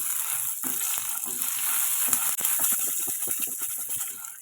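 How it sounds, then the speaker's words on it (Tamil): Garlic, ginger and a handful of cashews sizzle and fry loudly in a pan for chicken gravy, with steady crackling and repeated scraping stirs close by. "எல்லாத்தையும் நல்லா கலந்து விட்டுறலாம்"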